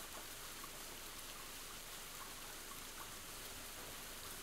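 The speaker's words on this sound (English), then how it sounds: "Shelter from the rain" Rain in the farming video game Gleaner Heights: a constant, even hiss of falling rain with no variation, steady and fairly loud throughout, no voices.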